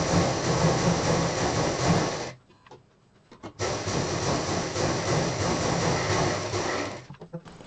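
A domestic sewing machine runs fast and steady, stitching a folded handle for a homemade bag, stops briefly with a few small clicks, then resumes its even whirring.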